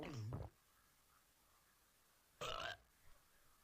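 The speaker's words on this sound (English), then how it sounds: "see, it makes him burp." A cartoonish claymation video game character lets out two loud, short burps after eating berries, separated by a quiet pause, with a faint small noise after the second.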